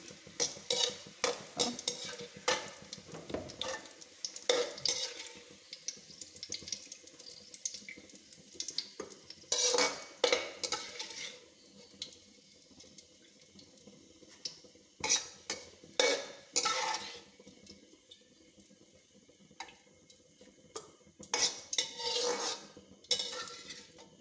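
Fried green chillies are scooped from the pan into bitter gourd kichadi, with scattered metal spoon scrapes and clinks over a faint background sizzle and clatter.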